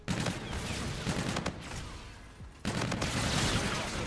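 Rapid gunfire in Call of Duty: Infinite Warfare, bursts of automatic shots clattering in a quick series, broken by a short dip before the firing resumes at full intensity.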